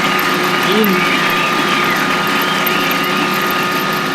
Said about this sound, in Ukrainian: Нарешті трактор в роботі.